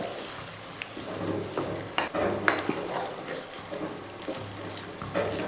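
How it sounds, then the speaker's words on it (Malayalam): Food being stirred in a frying pan, with a spoon scraping and turning through a gently sizzling dish. The stirring comes in irregular strokes, close up, with no talking. "ഇത് നന്നായിട്ട് ഇളക്കി കൊടുക്കുക"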